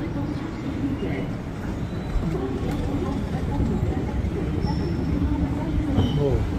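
Train rolling along rails on a UK or France journey, a steady dense low rumble with rattling throughout, loud and continuous, with faint higher squeals near the end.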